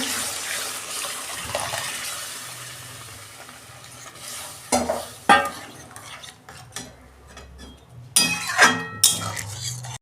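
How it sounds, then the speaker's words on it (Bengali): Lentils poured into a pan of oil-fried spices and stirred, for a fish-head mung dal, with a soft sizzle and scraping stirs, then louder bursts of clatter and sizzling toward the end. "তেল ছেড়ে গেছে, মশলা কষানো হয়ে গেছে, আমি ডালটা দিয়ে দিচ্ছি।"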